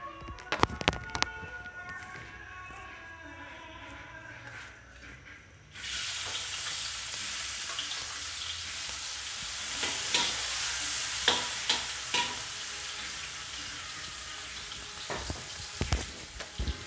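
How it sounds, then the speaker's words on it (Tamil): After a few seconds of quiet clinking, garlic and onion hit hot oil for tempering a spicy and sour fish dish, and a loud, steady sizzle of frying takes over, with occasional stirring clicks. "பூண்டு வெங்காயம்லாம் போட்டு தாளிக்க போகிறோம்."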